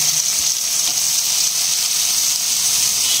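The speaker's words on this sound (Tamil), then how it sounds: "வெங்காயம் தக்காளி நல்லா குழைவாக வதங்கிடுச்சுமா, இப்போ கத்திரிக்காய் முருங்கைக்காய் போட்டுக்கோ" Brinjal and drumstick pieces tossed into softened onion and tomato in a hot pan, producing a loud, continuous sizzle with a bright hiss that stays even from start to finish, with no talking.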